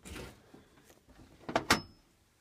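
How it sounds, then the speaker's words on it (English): Access door panel being removed from a home gas heater, a soft rustle followed by two sharp metallic clunks close together, near and brief with no talking. "So you take this door off."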